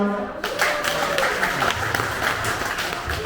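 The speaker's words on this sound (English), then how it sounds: "Applause for Ilana." The audience at a live Melbourne Silicon Beach meetup breaks into applause for a speaker, a dense, close patter of clapping that keeps going for a few seconds after a brief quiet start.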